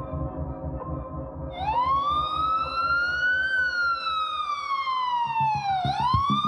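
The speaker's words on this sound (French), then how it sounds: "Seules les sirènes d'ambulance viennent troubler le silence." A single emergency siren wails and rises and falls in a long sweep as it moves through quiet city streets during the COVID-19 lockdown, heard at moderate distance over a low rumbling background, with no voices.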